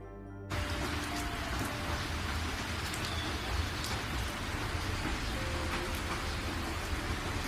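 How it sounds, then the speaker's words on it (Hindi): Heavy rain pours down steadily outdoors in a dense, even hiss that begins abruptly and holds without pause. "ये तो तेज बारिश होने लगी"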